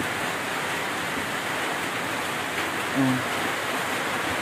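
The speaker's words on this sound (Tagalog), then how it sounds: "Ang ulan." Heavy rain during a typhoon pours down steadily as a dense, unbroken roar, loud and close throughout, with a faint brief tone partway through.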